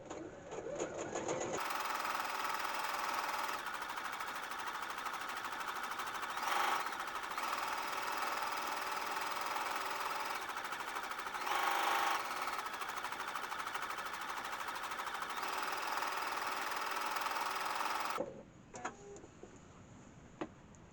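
A domestic sewing machine stitches continuously while quilting, a steady dense mechanical whir that runs for most of the stretch at a fairly even pace and then cuts off abruptly, leaving quiet room tone.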